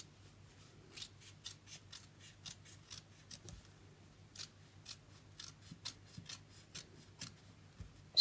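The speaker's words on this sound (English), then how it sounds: "I'm going to cut along here now." Scissors snip through fabric while cutting out a Santa doll pattern, giving a steady run of about fifteen short, crisp cuts at close range, quiet and with no talk.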